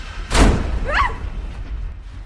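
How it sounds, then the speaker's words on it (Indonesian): A door slams shut in a horror film, Friday the 13th (2009): a single heavy thud with a broadband burst, followed by a brief fainter sound and a lingering low rumble, no voices. "bersamaan dengan tertutupnya pintu dengan keras"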